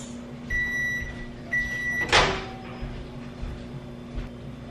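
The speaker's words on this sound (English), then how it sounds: "You put it in the microwave for a minute" Microwave oven heating a turmeric, cayenne and lemon mixture for a minute, with a steady low hum, a few short tonal beeps early on and a sharp clunk of the door or a container midway.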